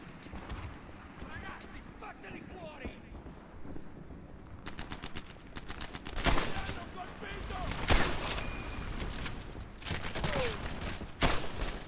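Rapid gunfire from a World War II weapon in the video game Medal of Honor Airborne, with dense bursts and louder cracks building through the second half over a busy game soundscape, while a player talks in the background.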